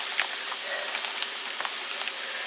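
Beef cooking in a pan on a stove turned down to 7 gives a steady, even sizzle and hiss with occasional soft pops, heard alone at moderate loudness.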